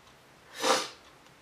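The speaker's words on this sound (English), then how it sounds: "Yes, I still have the sniffles." A single short sniffle from a person with a cold, close and fairly soft, with near silence on either side.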